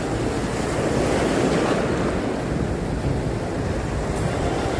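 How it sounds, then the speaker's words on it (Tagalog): Big ocean waves crash and roll continuously at a rough shoreline spot used for lure fishing, with strong wind buffeting the microphone throughout; a loud, steady roar with no pauses. "Laki ba naman ng alon"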